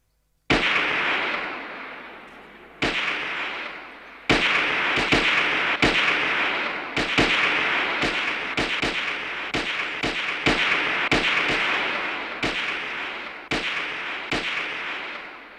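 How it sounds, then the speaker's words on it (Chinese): Carbine and pistol shots ring out one after another, more than a dozen sharp, loud reports at irregular intervals, each trailing off in a short echoing tail, with no voices between them. "我和老总用卡宾枪，主席打手枪"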